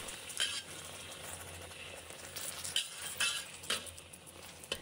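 A spoon stirs soy sauce, sugar, pepper and water together in a pan of fried eggs, with a low simmering sizzle and a few sharp scrapes and clinks against the metal, quiet and close.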